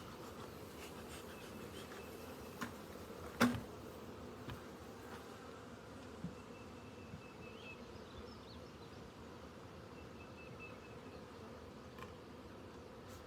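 Honey bees swarming around a single hive outdoors make a faint, steady buzzing drone that runs unbroken throughout, with a few soft knocks and ticks.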